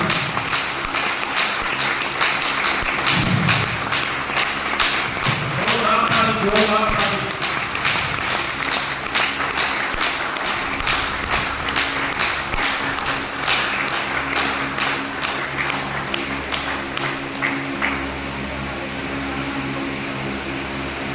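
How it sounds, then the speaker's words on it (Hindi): Loud applause from an audience at a meeting, sustained clapping across the whole span with a voice briefly audible early on, settling into steady rhythmic clapping that eases slightly near the end. "एक बार जोरदार ताली"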